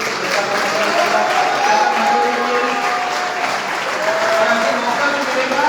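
A large convention audience at the IMC Goa 2021 event bursts into loud, sustained applause, dense and steady clapping that fills the hall for several seconds with a crowd murmur beneath it.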